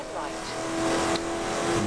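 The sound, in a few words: racing car engine and tires in a driving video game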